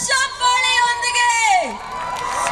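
A crowd at the Sirsi Utsava 2025 festival in Sirsi cheers and whoops loudly over a sustained roar of voices, with a high voice rising above the noise.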